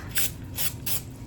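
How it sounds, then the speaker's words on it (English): Three short hissing bursts of cooking spray are misted into a 9x13 baking pan, each puff a quick airy spray, spaced evenly and fairly close. "I have a 9x13 pan that I'm just going to lightly spray with a little bit of cooking spray"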